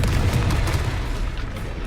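A Confringo explosive spell cast in Hogwarts Legacy detonates as a dense, rumbling boom with heavy low-end crackle that fills two seconds at steady, loud volume.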